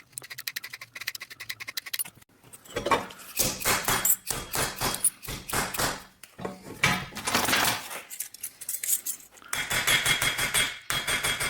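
A dull cross pein hammer textures a copper rose for an urn, striking in fast rhythmic bursts of sharp metallic blows close up, with short pauses between runs.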